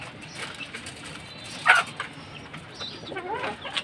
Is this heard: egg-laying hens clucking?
yes